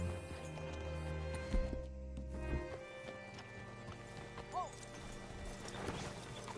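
Hooves clip-clop over the Red Dead Redemption 2 game soundtrack, with a short whinny from a horse partway through.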